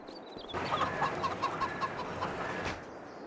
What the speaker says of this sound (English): 220 egg-laying age chickens, 179 babies, and one rooster. That is a busy rooster.